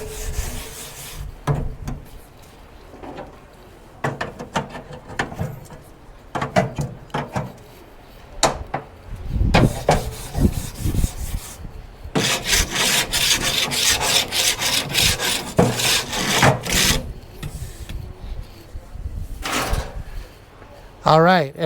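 Charcoal grill grates being scrubbed hot with a brush on an Oklahoma Joe's Judge charcoal pit, giving rough, repeated scraping bursts in irregular strokes with short pauses, fairly close.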